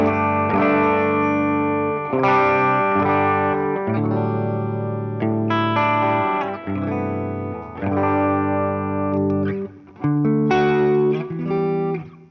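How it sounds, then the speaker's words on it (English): Heavily distorted electric guitar chords through a Moss distortion pedal ring out loud and sustained, with a few short pauses between phrases; no talking. "we've got a Moss distortion this side"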